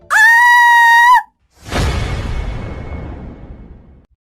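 A woman lets out a loud, sustained, high-pitched scream as a horror story effect. It is followed by a heavy crashing whoosh that slowly fades out.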